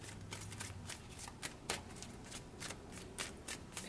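Tarot cards being shuffled by hand, a steady papery riffling with repeated soft slaps and bursts, close and fairly quiet with no talking.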